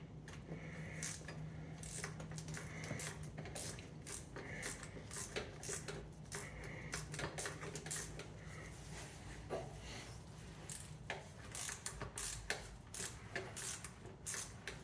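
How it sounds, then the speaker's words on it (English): Ratchet turning a socket under a 1990 Volvo 245, a run of quick metallic clicks and clacks close by, mixed with tool handling in a quiet garage. "Let me turn the ratchet back to on"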